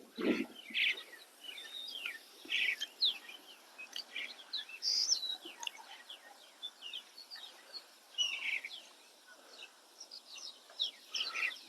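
Crows and other birds call outdoors with faint, scattered chirps and caws coming from a distance, with a few clearer calls rising now and then over quiet background hiss.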